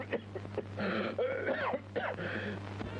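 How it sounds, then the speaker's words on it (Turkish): A man coughing and clearing his throat, several rough, wheezy, strained bursts up close, over a faint steady background hum. "Hala sigaradan mı diyorsun sen bu öksürüğe?"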